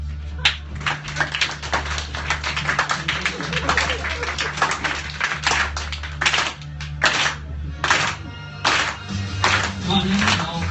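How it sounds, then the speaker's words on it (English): An audience at a live performance show claps their hands in a busy, uneven patter of sharp claps, with a voice speaking over the clapping. "Clap your hands."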